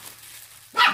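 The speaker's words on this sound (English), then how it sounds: "Sorry, excuse the dogs." A single short dog bark rings out near the end after a quiet moment, fairly close.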